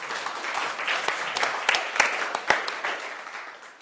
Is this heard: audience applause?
yes